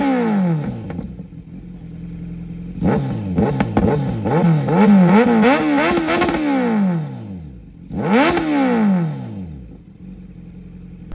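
A Kawasaki Z900 motorcycle engine revs hard up close in repeated rising and falling bursts, settles briefly, then gives one more loud throttle blip before dropping back to idle.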